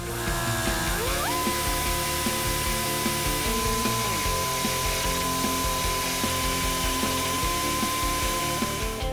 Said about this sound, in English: Use a grinder tool to widen the access hole.